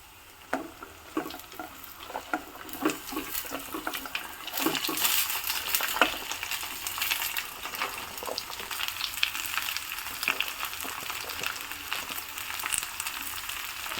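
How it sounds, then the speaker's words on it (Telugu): Cut native ivy gourd tipped into a pan of already fried onions, soft clatter of pieces dropping in at first, then a louder continuous sizzle with stirring scrapes, with no voices. "ఇప్పుడు మనం దొండకాయలు వేసేసుకుందాం కట్ చేసిన దొండకాయలు ఉన్నాయి కదా దొండకాయలు వేసుకుందామండి"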